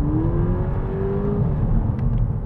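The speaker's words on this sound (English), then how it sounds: "Makes quite a louder engine tone." VW Polo GTI engine revving while driving, a close, loud rising engine note that climbs steadily over a deep rumble, then settles, with no talk over it.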